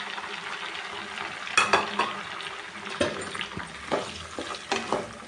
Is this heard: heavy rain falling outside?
no